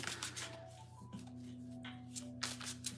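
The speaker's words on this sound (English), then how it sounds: "while I do a quick shuffle" Tarot cards being shuffled nearby in quick riffling bursts, crisp papery flutters at the start and end over a quiet hum.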